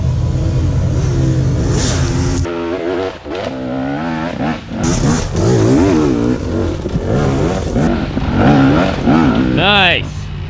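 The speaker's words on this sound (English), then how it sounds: "See what the two-stroke beta dirt bike can do." A two-stroke Beta dirt bike revs and accelerates on an off-road trail, its buzzing engine rising and falling loudly and close throughout, with people talking and shouting over it.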